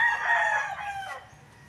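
A rooster crows once in a short, rising-then-falling call, fairly close and loud, then trails off into quiet farmyard background.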